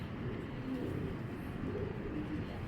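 A pair of Afshan Baga pigeons cooing softly and continuously in a loft, a steady low murmur with faint background noise and no clear talk.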